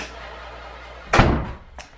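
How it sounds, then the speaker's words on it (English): A door swings shut indoors at home with one solid, close thump and a short rattling decay, then a faint second knock as it settles against a quiet room background. "Close the door, please."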